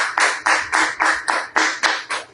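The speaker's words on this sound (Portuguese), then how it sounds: "Vamos a darle un fuerte aplauso a nuestro Señor Jesucristo" Church congregation clapping in a quick, even rhythm, roughly three claps per second, loud and close with no voices over it.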